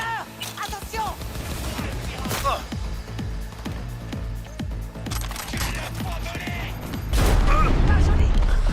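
Sniper and assault gunfire in the video game Cyberpunk 2077, rapid repeated shots cracking through a busy combat mix, sharp and close, ending in a louder dense burst, with raised voices shouting over the action.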